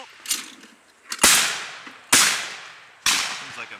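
A shotgun fires at sporting clay targets outdoors, four loud sharp reports spaced about a second apart, each with a quick decaying tail.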